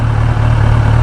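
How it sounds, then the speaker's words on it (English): A Kawasaki Ninja ZX10R sport bike idles with its stock exhaust, giving a steady, low, throbbing drone that sounds close and loud. No voices are heard over it. "I've also been pretty impressed by the sound of the exhaust note"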